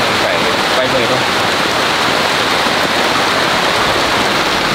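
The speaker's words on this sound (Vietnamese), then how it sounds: "trời mới mưa được khoảng độ 5 phút thôi" Rain pours heavily and steadily at close range, a loud, unbroken hiss of drops beating on surfaces.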